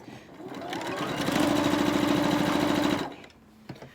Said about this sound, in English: I am only going to actually sew part of this seam